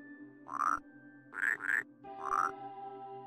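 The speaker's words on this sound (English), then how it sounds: "Play your tone again for me, frog." A frog croaks tonal notes in the puzzle game Rusty Lake Paradise, with one croak, then a quick double croak, then a final croak, clear over a faint sustained game drone.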